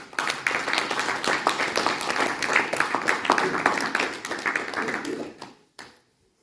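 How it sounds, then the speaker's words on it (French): A church congregation applauds in a steady, dense round of clapping that carries on for several seconds before abruptly stopping into near silence. "Applaudissons le Seigneur pour cette parole."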